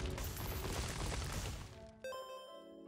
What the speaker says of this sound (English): Can the little explosions not hurt me, or am I just getting really lucky?